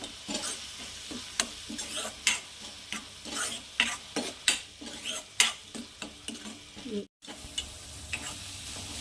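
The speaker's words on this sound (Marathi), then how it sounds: "चवीनुसार आपण मीठ ॲड करू छान असं मिक्स करायचं आहे" Tomato chutney being mixed with salt in a pan, a spatula scraping and knocking in an irregular run of sharp strokes over a low sizzle, close by, with a brief dropout near the end.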